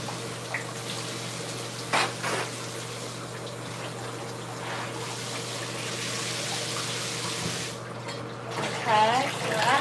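Water spraying and rinsing down the walls in a steady, moderate wash, with a low hum underneath and a few faint voice sounds near the end.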